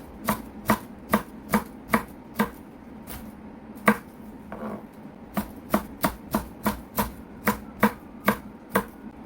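A knife chops through gizzard shad sashimi with the bones left in, in a quick regular series of sharp taps on a cutting board with one short pause, close and clear, with no voices.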